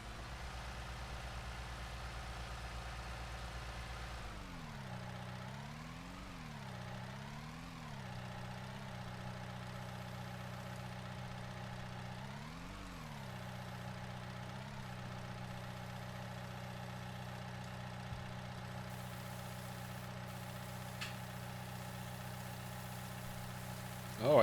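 A tractor engine idles steadily in Farming Simulator 19, a low continuous hum whose pitch dips and rises a few times as the revs shift, staying close and even throughout with no voices.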